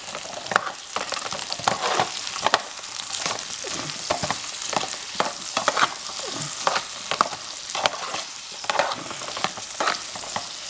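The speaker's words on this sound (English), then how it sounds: "Now what I'm doing with the veggies, I'm basically going until the onions start to clarify." Vegetables and onions sautéing in a metal canteen cup, a steady close sizzle broken by frequent sharp scraping and stirring strokes in an irregular rhythm, with no talking.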